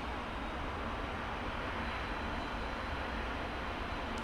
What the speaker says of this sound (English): that's the engine started and idling nicely